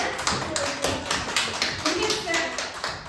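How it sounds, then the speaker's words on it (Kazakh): Children clapping together in a classroom, a run of quick sharp rhythmic claps with voices heard alongside. "Қане шапалақтап қоямыз, иә?"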